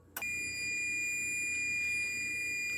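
A baking timer alarm sounds during blueberry scone preparation: a sharp onset followed by a continuous, steady high electronic tone that holds at even loudness for nearly three seconds, with no talking.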